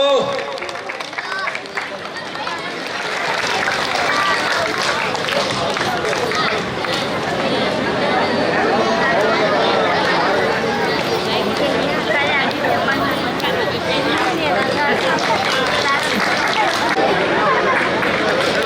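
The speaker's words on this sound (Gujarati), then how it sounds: "તાળીઓ પાડો વાલા." Village festival audience at a Hanuman temple silver jubilee celebration in Sartanpur, with broad sustained crowd noise and clapping swelling after a brief quieter start and holding steady and loud throughout, chatter mixed in.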